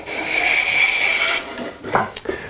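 Wooden hand plane cutting light smoothing shavings from wood, one long rasping stroke followed by a few short scraping strokes, close and clear.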